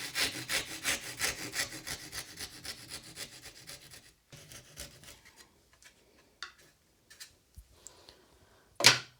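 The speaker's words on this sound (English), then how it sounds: "this is a rip saw and this is normally a cross-cut job" A rip saw on a small restored backsaw cuts wood across the grain, with a rapid rhythmic rasp of close strokes that slows and becomes sparse after about four seconds, followed by a few scattered scrapes and knocks.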